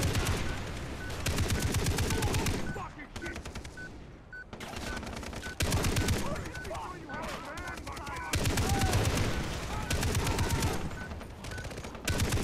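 A heavy machine gun in the video game Far Cry 3 fires long, loud, rapid bursts, broken by a short lull before the firing resumes in several more sustained volleys.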